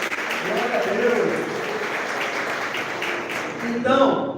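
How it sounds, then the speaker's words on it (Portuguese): Congregation applause during a church service, a steady wash of clapping throughout with voices and music-like tones murmuring beneath, swelling slightly near the end. "Uma salva de palmas para ele"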